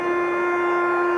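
Half-time siren at a 1995 Brisbane Rugby League preliminary final between Wynnum and Brothers at Suncorp Stadium, a loud, steady, sustained tone with no voices over it.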